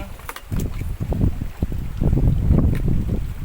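Morning wind blowing across a reservoir buffets the microphone in uneven gusts, a rough, close rushing that rises and falls without speech.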